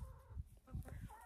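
Rooster crowing at close range on a small backyard homestead with chickens and rabbits in freezing winter weather, a short, rough, hoarse call.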